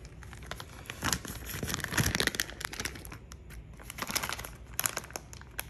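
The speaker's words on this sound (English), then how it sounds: "I'm just gonna rip it." A plastic fish-store bag holding a saltwater aquarium fish is torn and crinkled open by hand, close up, in several irregular crackling bursts with brief pauses between them.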